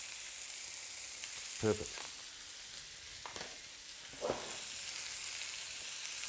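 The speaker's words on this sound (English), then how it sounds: "you really want to see if you can get a little bit of sear on the outside of that steak" Beef steak strips sear in a hot frying pan for a stir-fry with broccoli, giving a steady, soft sizzle throughout. A brief spoken word comes near the start.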